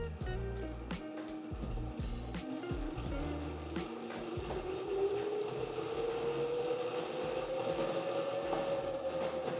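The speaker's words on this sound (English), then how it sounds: "Spinning it up. It's making noises." A homemade SpinLaunch-style centrifuge spins up with an uneven mechanical clatter and a rising whine that climbs steadily in pitch over several seconds.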